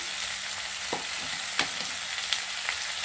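Potatoes and plantain fry in a pan with a constant bright sizzle while a spoon stirs them, giving a few soft scraping knocks against the metal, close and alone with no talking.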